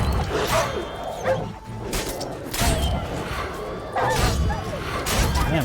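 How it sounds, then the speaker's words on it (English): A pack of dogs barking in The Witcher 3: Blood and Wine, repeated sharp barks and yips in irregular bursts, fairly close, mixed with clashing impacts and brief voices. "Man, they got a lot of dogs."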